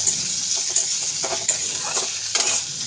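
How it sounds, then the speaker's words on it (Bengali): Onion frying with whole cumin in a pan sizzles steadily up close, while repeated scraping stirs of a spatula come through at an irregular rhythm. "এবার ভালো করে পেঁয়াজটা আমি ভাজবো"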